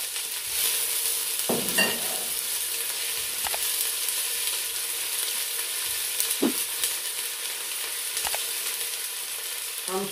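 Garlic, a bay leaf and onion sizzling in a hot pan for a taro and veal broth, a steady, fairly quiet frying hiss throughout, broken by occasional clicks and scrapes of a utensil.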